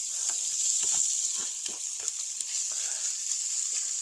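Cabbage cake frying in butter in a pan, a steady close sizzle throughout with soft scraping stirs and occasional light crackles, no talk.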